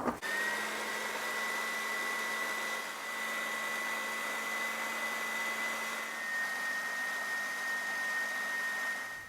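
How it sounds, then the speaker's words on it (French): A kitchen blender whirs at a steady high pitch while blending hummus ingredients (chickpeas with cumin, lemon juice, oil and salt), running loud and continuous with a slight dip midway. "on va pouvoir mixer ça"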